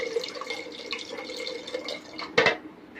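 Water splashes and trickles as a small amount is poured into a sweetened yogurt lassi mixture in a kitchen, a steady wet patter with a brief louder gush near the end.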